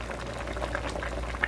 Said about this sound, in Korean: 김치찌개가 보글보글보글 끓고 있습니다